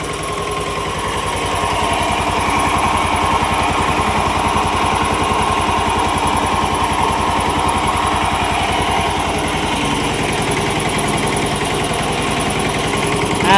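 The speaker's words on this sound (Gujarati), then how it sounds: "મસ્ત મજાનો નેના ટ્રેક્ટરનો પંપ બનાવી દો." A water pump driven by a small tractor engine runs steadily and loudly up close, a continuous even mechanical drone with a fast regular beat and no talking.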